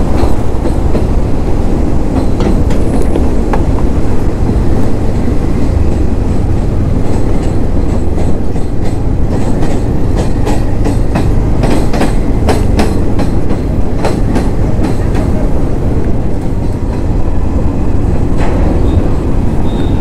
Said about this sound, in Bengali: পাশ দিয়ে ট্রেন যাচ্ছে।